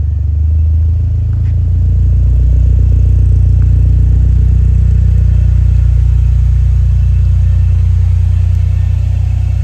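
A car with a Maptun Nano tuning device fitted is driven; its engine drones as a steady, loud low rumble from the cabin, rising slightly after the first couple of seconds and holding even throughout, with no talking.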